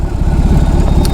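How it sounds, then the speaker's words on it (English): A BMW R18 B motorcycle idles at a standstill, its engine giving a close, steady low rumble with a lumpy pulsing beat. "It's got a nice little rumble at the lights."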